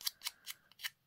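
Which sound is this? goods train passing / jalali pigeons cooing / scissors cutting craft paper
scissors cutting craft paper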